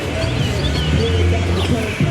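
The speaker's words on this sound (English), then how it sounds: "A lot of baby birds chirping in the trees this time of the year." Baby birds chirp in trees along a spring-evening street on the Rutgers New Brunswick campus. Faint, scattered high tweets rise over a dense wash of background noise and distant low sounds.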